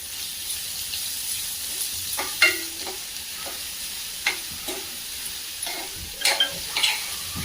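Finely chopped onion frying in hot oil with red garlic in a kadhai, a steady close sizzle broken by scattered scraping stirs and clinks of a spatula, no voices.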